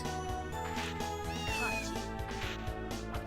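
A cat meows over steady, layered game music in Castlevania: Order of Ecclesia, the meow rising and bending briefly in the middle of the clip.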